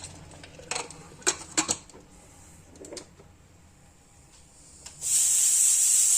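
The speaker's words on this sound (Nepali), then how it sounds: "कुकरको सिटी लाउनु पर्छ बिर्को लगाएर" A pressure cooker whistle on a gas stove cooking maize rice, starting with a few clanks as the lid and weight are fitted, then breaking into a loud, sustained high-pitched hiss that continues to the end.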